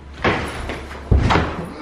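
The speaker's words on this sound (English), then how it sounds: "Oh, I slammed the wall." A person slams into a wall while attempting a backflip indoors. Two heavy, close thuds land about a second apart, the second one louder and booming.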